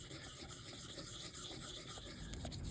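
Wet sanding of a plastic fresh-air vent door with 1000-grit sandpaper and a little soapy water makes a steady, close scrubbing rasp that continues without a break.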